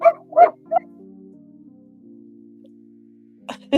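Puppies yip and whimper in short, close bursts at the start, fall quiet over a faint steady tone, then yelp again at the end.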